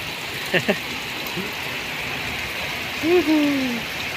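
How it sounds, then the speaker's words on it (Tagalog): Heavy rain hissing steadily on a road, a dense even wash of sound with a couple of brief knocks and a short voice-like whistle partway through. "Pag malakas ang ulan, hindi madulas ang kalsada."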